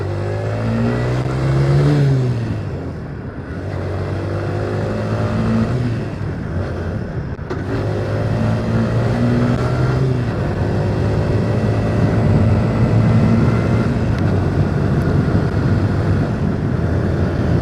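A Suzuki Van Van 125 motorbike is ridden on the road, its small engine buzzing up and down through repeated revs and gear changes over a constant rush of wind, with no talk.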